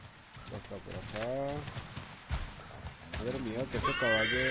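A horse neighs loudly in Assassin's Creed 3 gameplay, repeated whinnies with quick hoofbeats of galloping beneath, while someone talks over the game audio.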